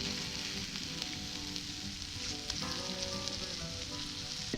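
Sofrito sizzles steadily over an open fire for a paella, a dense continuous crackle and hiss with a few faint clinks, close and loud, with no voices.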